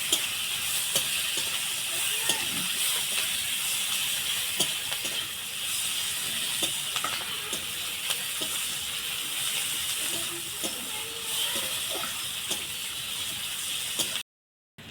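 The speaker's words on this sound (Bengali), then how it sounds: "কেটে রাখা পেঁয়াজ দিয়ে দিব।" Chopped onions fry in hot oil with whole cardamom, cloves and cinnamon, a steady close sizzle and hiss with occasional small crackles and clinks, running unbroken until a brief cutoff at the end.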